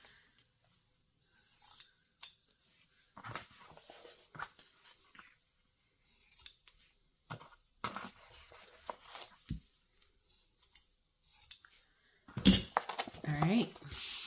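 Scissors snip the corners of a soft book cover in short, quiet, scattered cuts with pauses between, close and faint, with some light handling noise.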